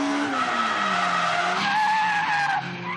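Car tires screeching and skidding as a drifting car slides around a D1 racing track, a loud continuous squeal with engine noise, sustained throughout with no talk.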